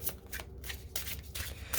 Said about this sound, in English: So I'm just going to keep shuffling.